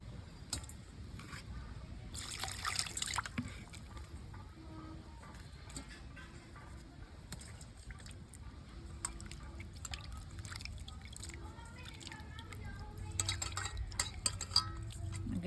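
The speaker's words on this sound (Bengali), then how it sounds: "আমগুলো আমি একটু ধুয়ে নেব জল দিয়ে" Roasted mangoes being rinsed under water: soft, faint trickling and dripping with a few light splashes and small knocks of fruit against a bowl, quiet and close throughout.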